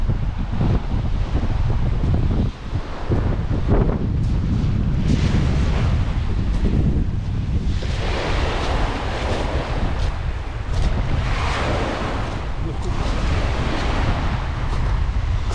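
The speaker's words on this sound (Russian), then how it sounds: "Ветер сильный." Strong wind buffets the microphone at a seaside bay during a storm, roaring and gusting continuously with low rumble and surging bursts, likely mixed with surf, loud and unbroken with no talk.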